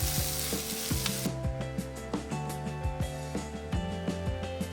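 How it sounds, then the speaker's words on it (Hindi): Green chillies frying in oil for a spicy dry potato sabzi, a soft continuous sizzle with periodic dull knocks of a spoon stirring against the pan, close and moderate in level, no voices. "2 से 3 मिनट अच्छे तरीके से भून लेंगे तो मिर्ची से जो कच्चापन है वो निकल जाएगा"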